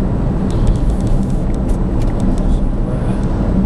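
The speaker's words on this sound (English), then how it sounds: "if you actually floor the throttle and accelerate, and boy does it accelerate" Inside a Citroen C-Zero electric car under hard acceleration, a loud, steady wash of road and motor noise fills the cabin without a break.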